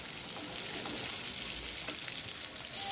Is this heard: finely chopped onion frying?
yes